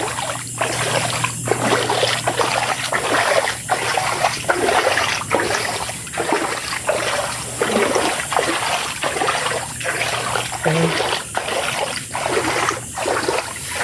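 Clear rainwater flows steadily and loudly, with a broad continuous rush of water and periodic surging pulses roughly every second, running alone without voices.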